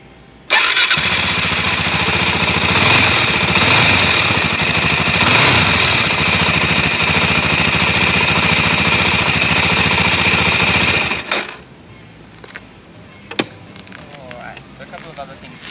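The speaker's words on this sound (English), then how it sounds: "So I'll just start it up so you can hear what it sounds like." A 2016 Suzuki DR-Z400SM motorcycle engine catches and settles into a loud, steady close-up idle for about ten seconds before being switched off, leaving quiet handling sounds.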